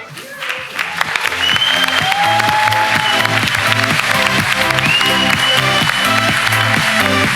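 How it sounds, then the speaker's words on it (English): Audience at a startup pitching competition event applauding a team, loud sustained clapping from a crowd that swells in and continues steadily, with a music bed and brief sweeping tones underneath. "give a big applause to the team"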